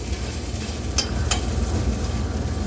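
Seasonings sautéing in a pan for dinner, a steady close sizzle with two brief scraping stir sounds, no talk.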